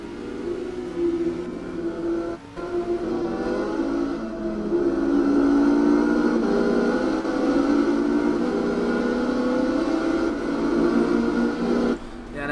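A race car's engine, heard onboard during a Designed for Speed Championship race up the Brno hill climb, drones loudly and continuously, its note rising and falling as the car is pushed hard.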